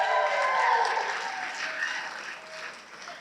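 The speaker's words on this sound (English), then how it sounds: "give a round of applause for 4 bingos" Audience applause at a growth mindset keynote talk, a dense wash of clapping from a room full of people that starts full and gradually fades in loudness over a few seconds.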